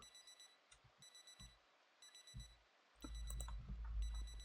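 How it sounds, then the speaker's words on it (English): A digital wristwatch alarm beeping in the Project Zomboid video game, repeated short high bursts of beeps, faint, with game rumble rising near the end. "Why is there beep beeping going on?"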